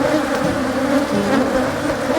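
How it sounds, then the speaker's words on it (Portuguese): Honey bees at a bee farm make a dense, continuous buzz from a close swarm, steady and loud with slight wavering in tone and no voices. "O som das abelhas impressiona."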